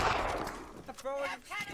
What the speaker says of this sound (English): careful of the cannon fire!